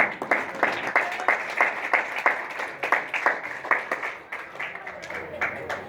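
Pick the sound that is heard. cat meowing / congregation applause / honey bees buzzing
congregation applause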